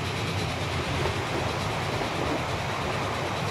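Train from the Transport Fever video game running steadily in a continuous broadband rumble with a faint clatter, no voices.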